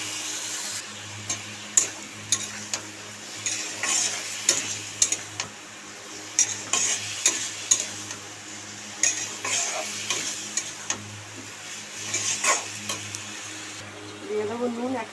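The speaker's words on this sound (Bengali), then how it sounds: "জল দিয়ে গুলে নিয়েছি, এবার মশলাটা দিয়ে দেবো।" Ground spice paste of turmeric, cumin, chilli and coriander powders mixed with water is tipped into a hot pan and stirred, giving a steady close sizzle broken by repeated scraping and clinking strokes from a utensil.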